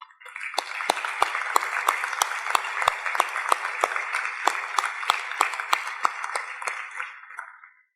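Audience at a New Year wishes ceremony breaks into sustained applause, a dense even roar of clapping with crisp individual claps standing out, lasting around seven seconds before tapering off.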